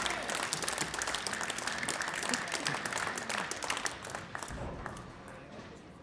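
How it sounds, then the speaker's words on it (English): A crowd of fans at a bowling final of a European men's trios championship applauds and cheers in a dense, continuous patter that eases toward the end, with a voice talking underneath. "I think a lot of the Finns are cheering for Italy."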